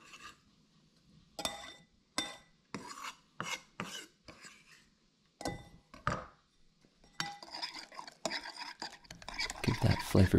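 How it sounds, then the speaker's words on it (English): A flavor base for a Greek falafel pizza mixed in a bowl with a utensil, close scraping and rubbing strokes in separate bursts with small clinks, becoming busier and more continuous toward the end. "Give that flavor base a little bit of a mix."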